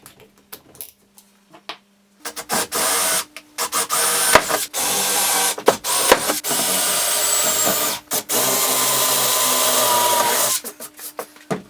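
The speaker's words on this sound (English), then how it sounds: "so I had to re-drill the pilot holes again" A power drill re-drilling pilot holes in wood in a workshop, running in several loud, sustained bursts of whirring with short pauses and clicks between them.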